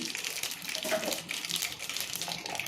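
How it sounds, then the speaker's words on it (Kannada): Mustard and cumin seeds splutter in hot cooking oil, a dense steady hissing crackle that runs throughout at moderate level. "1 ಟೇಬಲ್ ಸ್ಪೂನ್ ಆಗೋಷ್ಟು ಸಾಸಿವೆ, 1 ಟೇಬಲ್ ಸ್ಪೂನ್ ಆಗೋಷ್ಟು ಜೀರಿಗೆ ಹಾಕಿ ಅದು ಸ್ವಲ್ಪ ಚಟಪಟ ಅನ್ನಲಿ"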